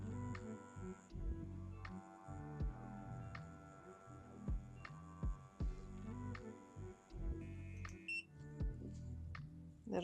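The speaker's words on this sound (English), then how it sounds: "Little beep to let you know when it's on and off." A Solong E75 wireless cartridge tattoo machine set to 8 volts gives short electronic beeps as it powers on and off, over its steady motor hum and a ticking rhythm.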